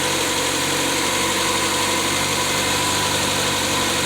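A 2006 Kia Spectra engine idles steadily after an alternator replacement, a continuous even hum with slight vibration that holds without stalling for the whole stretch.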